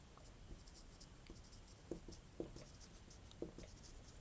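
A pen writes a maths differentiation problem by hand on paper, giving soft continuous scratching with a few sharper taps from the pen, close and quiet, with no talking.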